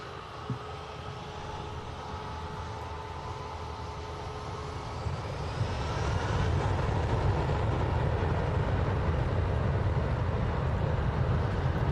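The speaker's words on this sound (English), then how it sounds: "It's really nice to see Aer Lingus using the classic aircraft with the new scheme." A classic Aer Lingus airliner in the new livery at Manchester Airport, its engine roar a broad rumble that swells louder about halfway through and holds steady, with no voices.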